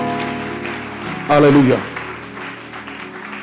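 A church congregation at a convention service bursts into loud applause and cheering that swells and then fades back into the ongoing sound of the room, with voices mixed into the acclamation.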